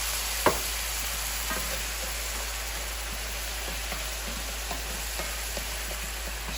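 A pan deglazed with Marsala wine for chicken Marsala, giving a dense hissing sizzle like light rain, with a sharp clank at the start and faint scrapes of stirring throughout, no talking.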